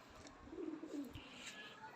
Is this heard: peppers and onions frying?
no